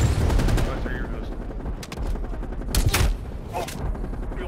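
Rapid bursts of automatic gunfire from Call of Duty: Black Ops Cold War multiplayer, close and loud, with sharp single shots punctuating the stream and brief gaps between volleys.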